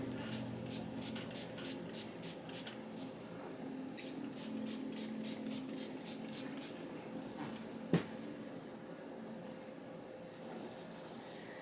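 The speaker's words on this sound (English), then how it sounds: "So I'm gonna just spray her neck a little bit." Two quick runs of fine spray bursts from a spray bottle misting a client's neck during an esthetician treatment, several short puffs each, hissing close by over a low background hum, with a soft knock near the end.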